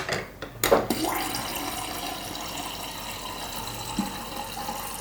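Water pours steadily into a container to mix a pineapple-flavored candy drink powder, a continuous close splashing stream after a brief clunk, with no talking.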